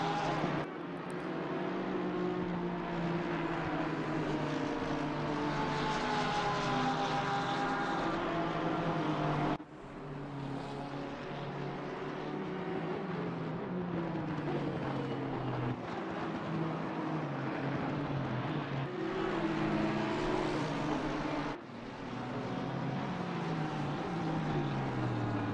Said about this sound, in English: Two Porsches crossing the start-finish line into the hard braking zone of turn 1.